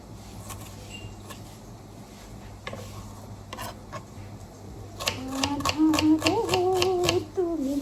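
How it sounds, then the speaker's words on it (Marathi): Onion and capsicum being chopped on a board in a home kitchen, a run of quick, sharp knife taps growing louder and denser toward the end, with a faint hum underneath. "तोपर्यंत आपण कांदा आणि शिमला मिरची कापून घेऊ."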